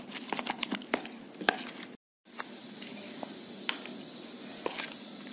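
A spoon stirs gram flour into wet ground moong dal batter in a bowl, soft irregular squishy pats and scrapes, quiet and close, with a brief silent gap midway.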